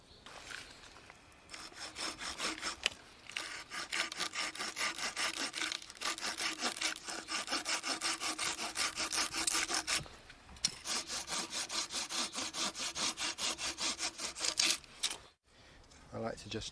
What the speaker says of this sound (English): what I need to do now is just trim off this wedge so that it's not sticking out too long